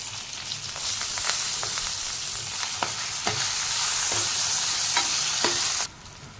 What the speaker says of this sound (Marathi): आता याच्यावर आपण बटाट्याच्या फोडी घालणार आहोत आणि त्या पण अगदी 2 ते 3 सेकंद परतून घेणार आहोत।